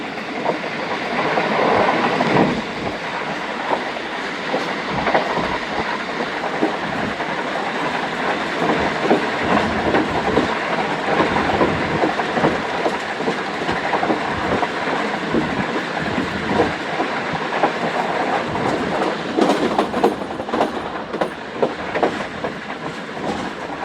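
A train passes Kasowal railway station in Pakistan, rolling past steadily for a long stretch, wheels clattering rhythmically over rails with a continuous loud rumble and hiss.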